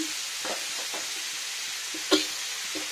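Chopped green chillies and banana flower frying in a pan, a quiet continuous sizzle with occasional stirring scrapes and one sharper clink of the utensil.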